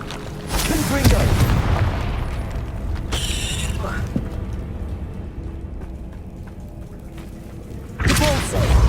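Confringo spell blasts in Hogwarts Legacy on PS4, heavy booming explosions with crackling debris, one burst near the start, a sharp hit around three seconds and another blast at the end, separated by quieter rumbling game sounds.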